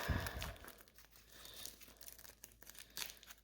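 Foam-wrapped lightsaber parts being unwrapped, giving a run of close, soft crinkling and tearing rustles with a denser burst at the start and scattered crackles after.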